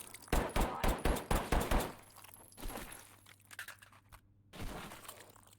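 Pistol gunfire in a video game: a quick burst of about seven sharp shots in steady rhythm, followed by a few scattered impacts and shuffling noises.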